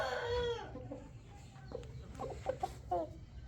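A rooster on a poultry farm gives a few short clucks and calls, fairly quiet against steady low farm background noise, with no talk.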